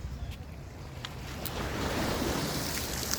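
Ocean waves and surf roll steadily at Ala Moana Beach on a rainy, windy day, a broad continuous wash that swells louder partway through, with some wind buffeting the microphone.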